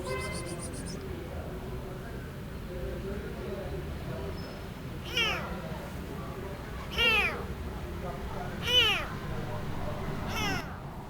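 A tiny blind, sick rescue kitten gives four short, thin meows spaced a couple of seconds apart over a steady low background hum, fairly close but not loud.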